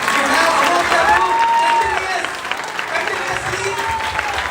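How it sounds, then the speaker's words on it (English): Applause from the audience at a debate event at a festival, a steady wash of clapping mixed with crowd noise that begins loud and eases slightly, with voices talking underneath. "Please have a big round of applause, please."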